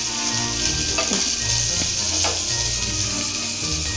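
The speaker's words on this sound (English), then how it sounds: "So as this is frying" Food sizzles steadily in hot oil in a pan, a loud, continuous crackling fry close up with a couple of faint clinks and no talk.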